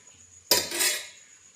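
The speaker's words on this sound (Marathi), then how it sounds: "कढई पण आहे, खिचडी परतणार आहे आता मी." A single scrape of a spoon against a kadhai, stirring khichdi, with a short rustling sizzle that fades; nearby and fairly quiet otherwise.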